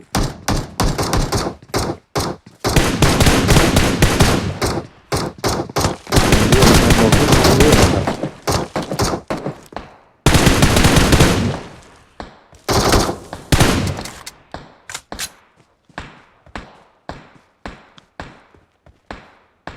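Someone is shooting nearby. The gunfire comes as long rapid automatic bursts and then thins to scattered single shots toward the end, close and loud, with no talking over it.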